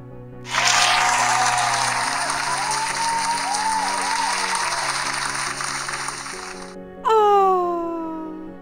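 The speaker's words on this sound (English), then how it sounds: "If you like this centerpiece, give me a round of applause" A sustained round of applause from a crowd rolls steadily for about six seconds over soft background music, then cuts off and gives way to a bright sweeping chime.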